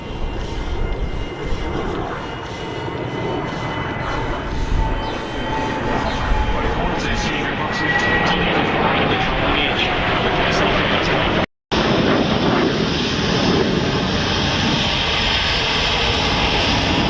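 KC-30 tanker jet engines roar at the Avalon Airshow, a broad, sustained rumble that stays loud and fairly steady, with one brief dropout and a commentator speaking over it.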